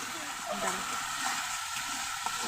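Spice masala frying in a pan with fish nearby, a soft continuous sizzle with faint stirring, low and close.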